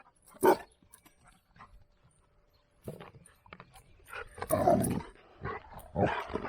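An indoor dog at play gives a sharp bark early on, then a run of louder, rougher barks and growly vocalizations in the second half, fairly close, with quiet gaps between them.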